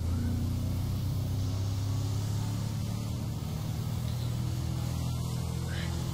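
Trevor's car in the GTA 5 video game drones with a steady, low engine hum and rumble that holds a constant pitch throughout, fairly quiet and without talk.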